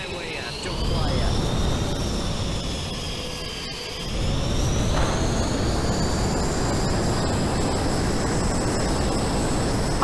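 A jet aircraft flies in the VR video game Boneworks, its engine giving a loud, sustained whine and roar that swells partway through, with a voice talking over it.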